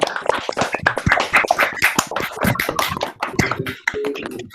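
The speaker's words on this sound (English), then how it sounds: "May we have a huge round of applause for all participants and winners." Applause for sports day participants and winners at a virtual school event: continuous dense clapping from many people, loud and close, with no voices on top.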